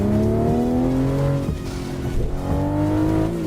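Simulated vehicle engine from American Truck Simulator, a loud steady drone with rising and falling revs across gear changes, continuous throughout with no talking.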